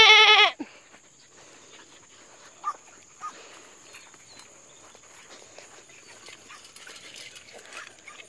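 Goats being herded by a dog let out one loud, close bleat at the start, followed by faint scattered rustles and movement in a quiet outdoor setting.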